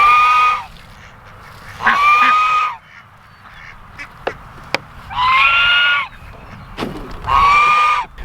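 Farm ducks quack loudly in four separate bursts of harsh, nasal calls spaced a second or two apart, close by, with quieter gaps of low background noise between them.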